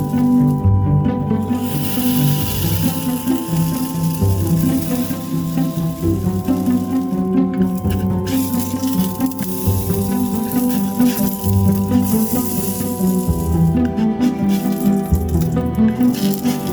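Zucchini fritters fry in a pan, giving a steady, close sizzle with crackling and some low kitchen rumble that runs without a break and with no talk.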